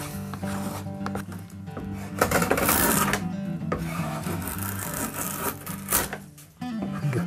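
A blade scrapes and rubs along wood while a bevel is shaped on a part for a birch bark canoe, in repeated close strokes of rough rasping friction outdoors.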